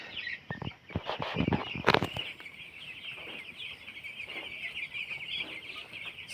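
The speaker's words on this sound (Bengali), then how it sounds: "পাঁচশো ব্রয়লার মুরগির খামার" Broiler chickens on a small 500-bird farm cluck and squawk in a brief burst near the start, then a steady high chorus of many birds continues in the background.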